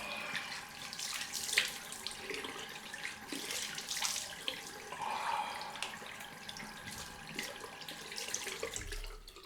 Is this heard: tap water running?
yes